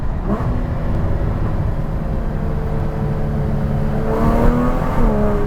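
Porsche 981 Cayman S fitted with Fabspeed F1 headers, heard from inside as the engine drones steadily then blips and rises sharply on a third-to-second downshift, a loud close rasping wail.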